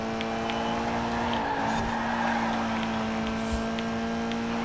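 An old Porsche in the Forza Horizon 4 racing game drives on with a steady engine drone and faint tire noise, continuous and fairly loud with no talk.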